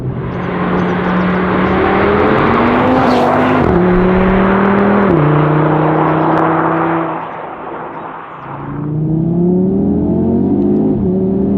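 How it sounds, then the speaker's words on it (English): A five-cylinder engine in an Audi TT RS Iconic Edition revs hard through several rising gear pulls, loud and close, with a brief dip before climbing again. "the noise from that 5-cylinder engine is just mega"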